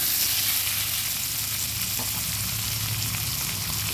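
Potatoes fry in oil in a covered pan for a Bengali tengra fish curry with eggplant, giving a steady, dense sizzle close by with faint stirring and no talking.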